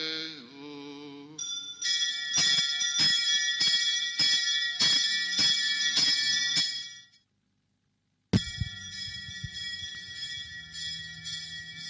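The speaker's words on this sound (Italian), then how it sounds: "Per l'ultima volta verranno suonate le campane" Church bells ring during Holy Thursday Mass in San Gerlando Cathedral, Agrigento: bright bell tones clang in a steady rhythm for several seconds, stop briefly, then resume with a sharp strike and a sustained ringing.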